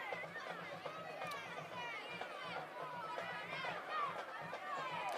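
A crowd of spectators at a Bulldogs high school football game, its dense murmur and chatter steady in the background, with an announcer talking over it.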